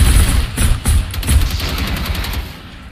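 Rockets and gunfire in the video game Generation Zero: a burst of loud, rapid shots and booming impacts in quick succession, some hits spaced and echoing, fading out toward the end.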